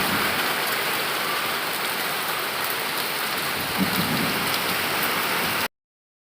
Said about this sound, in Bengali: এত পরিমাণে বৃষ্টি হচ্ছিল,